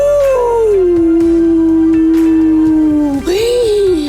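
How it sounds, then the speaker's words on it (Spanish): A wolf howls once in a long, steady wavering tone, dipping and rising again near the end; loud and close, with no talk, part of a children's tale about a lion. "empezó a escuchar Lamberto un aullido que hacía ¡au!"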